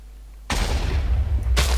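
A TNT explosion set off in Minecraft hits abruptly after a half-second of quiet, a loud close boom with a rumbling tail, then a second blast bursts in near the end.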